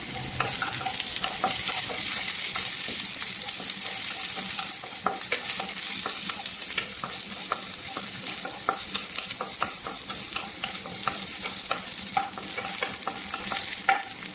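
Red onion sautés in a pan, producing a steady crackling sizzle with frequent small clicks and taps from stirring, continuous and fairly close.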